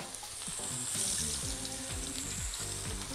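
Potato fries sizzle loudly in hot oil, a steady dense crackle and hiss throughout with no talking.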